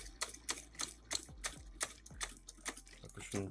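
An antique Singer sewing machine with a bullet-type shuttle, freshly oiled and adjusted, stitches in quick rhythmic clacking bursts, a series of sharp mechanical ticks at close range, fairly quiet.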